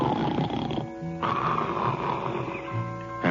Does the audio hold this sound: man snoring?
yes